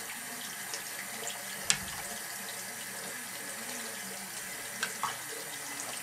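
Tap water runs steadily into a sink during toothbrushing, a faint, even hiss that lasts throughout, with a couple of brief knocks and clinks and no talk.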